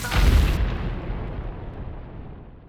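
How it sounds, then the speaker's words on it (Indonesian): A big blast in an animated fantasy story scene where a creature is struck by a burst of energy: one deep booming explosion that swells quickly and then fades in a long rumbling tail. "Dan Sylvia tiba-tiba menyemburnya, menciptakan sebuah ledakan besar."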